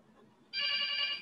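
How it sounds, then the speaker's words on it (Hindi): A phone ringtone starts abruptly midway, a steady bright electronic ring with stacked harmonic tones, loud and alone after a faint murmur of room noise. "मेरा फोन आ रहा है, मेरा फोन सुनो"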